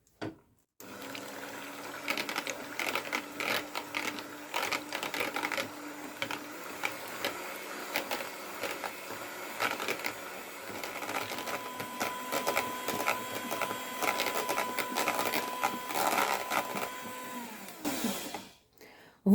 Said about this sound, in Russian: Взбиваем до мягких пиков.